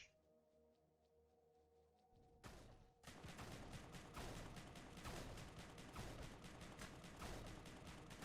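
Scattergun blasts from the space-survival game Empyrion erupt after a quiet lead-in, a dense, loud volley of rapid repeated shots that continues steadily to the end.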